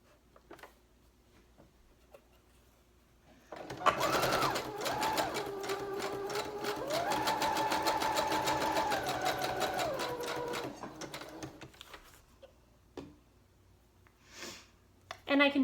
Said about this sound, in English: I'm just gonna go ahead and sew these pieces of lace on around